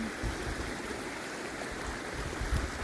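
Glacier-fed mountain stream rushing steadily over rocks, a continuous broadband roar with no voices.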